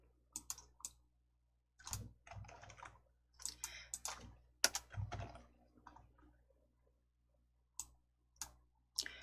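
Computer mouse clicks and keyboard presses in short clustered bursts, crisp and close, with brief pauses between groups of taps and no talking.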